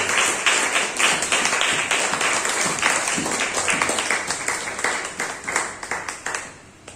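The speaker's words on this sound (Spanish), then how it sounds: "Denle un aplauso por el Señor." Church congregation at a Christian sermon breaks into sustained applause, dense steady clapping filling the room, loud and continuous for several seconds before tapering off at the end.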